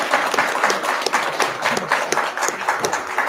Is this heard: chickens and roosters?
no